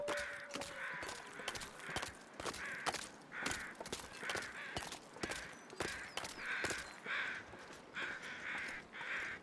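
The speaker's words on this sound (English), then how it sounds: "I think that's crows. That's 2 sets of crows, actually." Crows caw repeatedly in the video game The Long Dark, two groups calling back and forth in a steady pattern of harsh cries over soft footsteps, with no talking.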